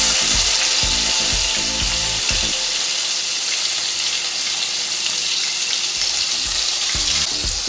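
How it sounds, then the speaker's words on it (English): Ginger and green chili paste sizzles loudly in hot oil for a banana kofta curry, a steady bright frying hiss with a few low knocks of stirring near the start and end. "then goes our ginger and green chili paste"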